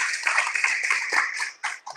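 A church congregation at GKSI Glory To Glories in Batam claps in a quick, rhythmic burst of hands, bright and close, tapering off near the end.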